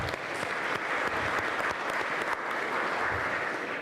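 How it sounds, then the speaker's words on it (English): A hall full of graduates at a college graduation ceremony applauds, a dense and steady roar of clapping that lasts throughout. "Give yourselves a round of applause."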